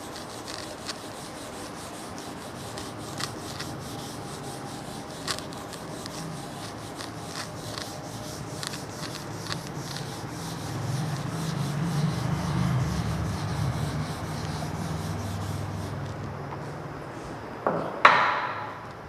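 A board is rubbed clean of handwritten chemistry notes during an IUPAC nomenclature lesson. The steady, scratchy rubbing runs close and continuous for most of the span, swelling midway and ending in a short, sharper burst of strokes.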